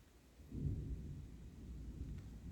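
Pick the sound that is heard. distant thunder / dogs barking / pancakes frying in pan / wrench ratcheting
distant thunder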